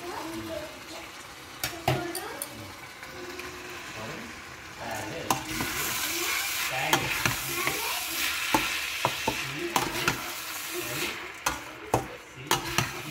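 Soaked, drained Gobindobhog rice being stirred into a vegetable pulao in a hot pan, with repeated scraping spatula strokes and clinks over a sizzle that grows louder midway, close and continuous, with a voice talking faintly at times.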